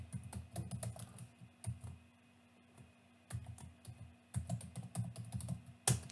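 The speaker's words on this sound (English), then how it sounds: "Type in a secure password that you could remember." Someone types a password on a computer keyboard while filling in an online account form, producing quick clusters of close key clicks with short pauses between bursts over a quiet room.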